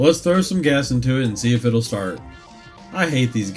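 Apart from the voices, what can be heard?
No distinct noise like a dog, phone or traffic.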